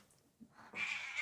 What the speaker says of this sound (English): We have a cat interruption.